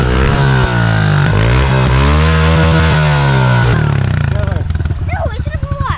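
A Honda CRF110 pit bike with a big bore kit and a new aftermarket exhaust revs hard nearby, the engine rising and falling in loud pitch sweeps before settling into a rapid, crackling idle, with voices under it.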